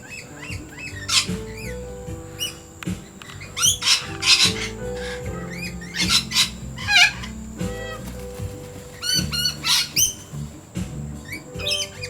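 Birds at a bird sanctuary, lorikeets among them, give repeated harsh, raspy squawks and chattering calls in irregular bursts, fairly close, over a steady low background hum.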